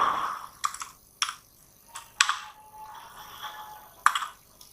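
Fingers typing on a computer keyboard while an Excel cash memo is made, several short bursts of key clicks with pauses between, close and alone.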